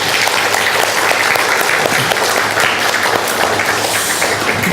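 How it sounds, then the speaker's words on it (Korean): A church congregation applauds the fathers on Father's Day, a dense, steady wash of many hands clapping that fills the space loudly and evenly throughout, with no voices standing out over it. "우리 서로 아버지께 박수 한번 드리겠습니다."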